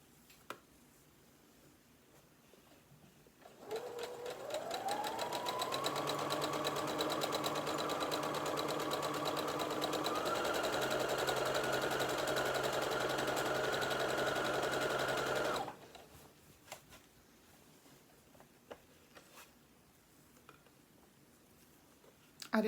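A sewing machine runs a steady, continuous stitch along the seam of an elastic skirt for about twelve seconds, starting and stopping cleanly amid quiet room tone.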